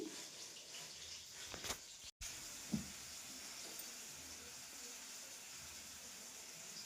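Fish pieces fry in hot oil in a pan, giving a faint, steady sizzling hiss throughout with a brief clatter and a momentary dropout partway in.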